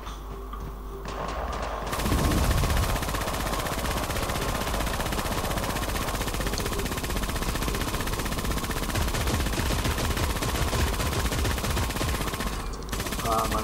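Rapid bursts of automatic gunfire crackle continuously and loudly, dense and sustained, with a brief quieter moment before the shooting erupts.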